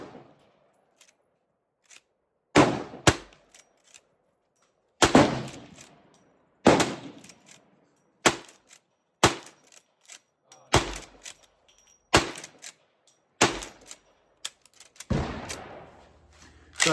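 Sharp, loud gunshots from a Winchester 1894 lever-action rifle at a cowboy action shooting range, about ten cracks spaced irregularly a second or so apart, each with a short decaying tail and faint clatter between.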